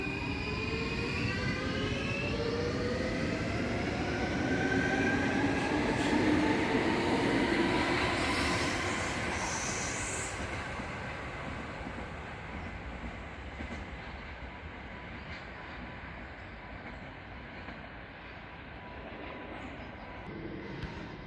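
A subway train pulls away, its rising whine and rumble loud at first, then gradually fading into the distance with a brief high squeal.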